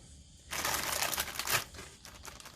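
A plastic bag holding the instruction sheets and decals for a Roden 1/35 Opel 3.6-47 omnibus model kit crinkles close up, a burst of rustling handling that starts abruptly and fades toward the end, with no talking.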